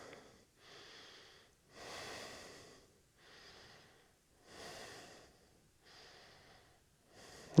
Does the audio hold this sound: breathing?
yes